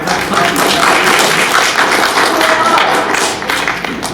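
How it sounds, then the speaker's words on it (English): A convention panel audience claps together, a loud dense patter of many hands sustained for several seconds, easing slightly toward the end, with no talk over it. "Clap, clap, clap, clap, clap, clap."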